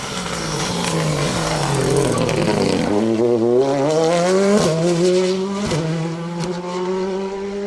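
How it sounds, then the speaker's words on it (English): A Ford Fiesta rally car with a WRC engine on the Manx Rally stage, loud and close, its engine revving and rising in pitch through several gear changes as it passes. "it does have a WRC engine in it, and it does sound great to hear that car."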